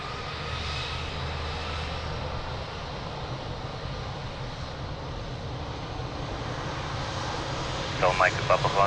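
Airliner taking off from Lisbon airport runway 02, a steady broad engine roar that holds throughout, with a brief burst of chirping or radio-like sounds near the end.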